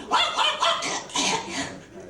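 A voice imitates a dog barking, a quick run of short, hoarse woofs and a strained yelp, close and loud.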